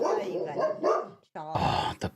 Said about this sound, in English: Oh, the bloody dogs.